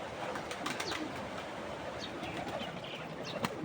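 Pigeons cooing in a loft or enclosure, soft low coos scattered through a faint, busy background with occasional rustles, fairly distant and quiet.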